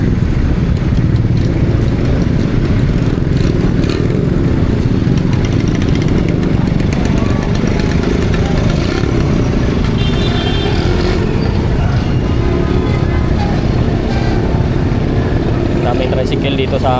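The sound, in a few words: city street traffic with many motorized tricycles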